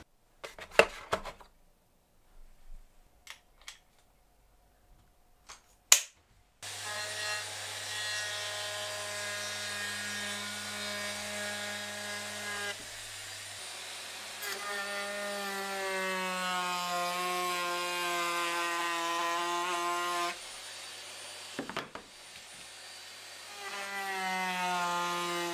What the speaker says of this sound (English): I'm going to use my little Bosch 12 volt router.